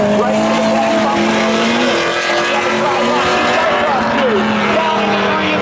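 Race cars at Seekonk Speedway spectator drags, loud engines roaring and whining past at close range, with tire noise and a race announcer talking over the din throughout.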